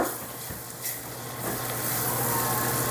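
Butter melts with sugar in a pan and is whisked steadily, giving a continuous close sizzle with scraping whisk strokes, loud and unbroken with no voices.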